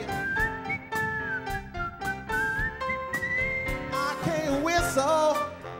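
An audience at a live concert in Las Vegas whistles the melody of a song over the band, with bright tonal whistles rising and gliding above steady music.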